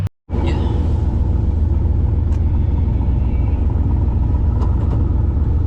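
Plymouth Valiant driving a lap around a track-side venue, a loud, close, continuous low engine rumble from inside the car after a brief silence at the start.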